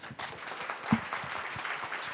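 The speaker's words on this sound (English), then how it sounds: "Please give him a round of applause." An audience at the Bolt Summit 2025 gives a round of applause, heard as a continuous wash of moderate clapping with no speech over it.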